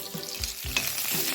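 Chopped onions fry in a pan for an Assamese sour fish curry, a steady crackling sizzle close by, broken by a few dull thumps of stirring.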